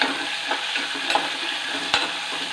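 Ingredients for a raw mango curry sauté in a hot pan, a continuous close sizzle broken by a few sharp scrapes and stirring clatters, with no voices.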